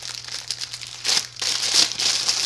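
Burlap ribbon for a tiger-themed braid is pushed aside with loud, close crinkling and rustling in several bursts, a steady low hum underneath.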